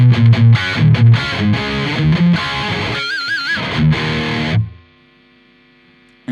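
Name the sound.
distorted electric guitar through TONEX Bad Boy amp capture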